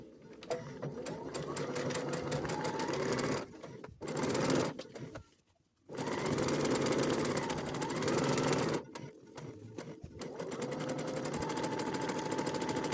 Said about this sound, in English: I'm going to sew about 1/4 of an inch above this stitch line.